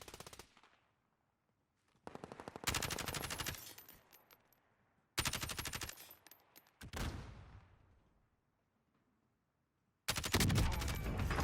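Automatic gunfire in Call of Duty Warzone, coming in several loud sustained bursts with silent gaps between them and no talk over it.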